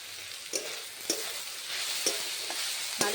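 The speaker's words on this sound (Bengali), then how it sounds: "ভালো করে গাজর আর বাঁধাকপিটাকে একটু ভেজে নেব।" Chopped carrot and cabbage fry in a pan with a steady close sizzle, punctuated by several sharp spatula scrapes and stirs at uneven intervals, with no talk.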